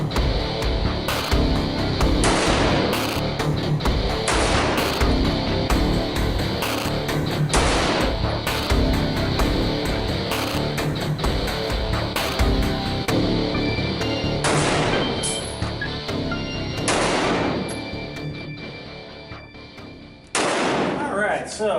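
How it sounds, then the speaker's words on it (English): A shooter fires an XD9 subcompact pistol at about 10 to 12 feet, sending roughly a dozen sharp, loud reports at uneven intervals over a steady background, with speech mixed in. "She'll be shooting her XD9 subcompact, roughly 25 rounds"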